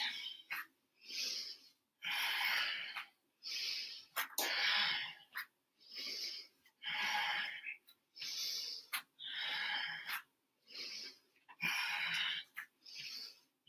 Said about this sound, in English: We need the Ujjayi breath now, that deep oceanic breath.